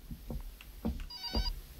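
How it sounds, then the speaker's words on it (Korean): A telephone rings in the horror game Horror Noodles, its bell tone sounding once briefly over low thumps and soft background noise. "전화가 오네?"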